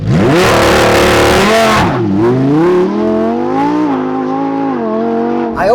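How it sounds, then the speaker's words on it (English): A loud, high-revving naturally aspirated V10 engine of a Lamborghini Huracan EVO screams near the listener, pitch climbing sharply, dropping, then surging again in a sustained wail. "let's talk about that engine sound now. V10, naturally aspirated,"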